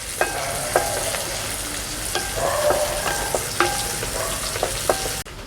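Half an onion frying in hot oil for a beetroot stir-fry, a loud continuous sizzle broken by repeated clinking and scraping of a spoon against the pan.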